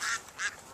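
Two short, nasal quacks from ducks on a farm, fairly close and fairly loud, with nothing else over them.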